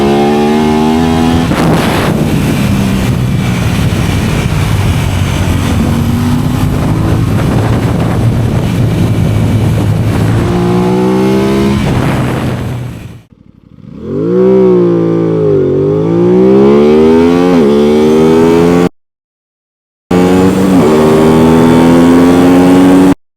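An Aprilia RS 660 and a CFMOTO 675SR-R sport motorcycle accelerate hard, loud engines rising through the gears with rising and falling pitch sweeps, a brief drop near the middle, then more revving after a short gap.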